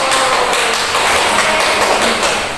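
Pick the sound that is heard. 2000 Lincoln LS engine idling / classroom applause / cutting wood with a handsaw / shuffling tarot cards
classroom applause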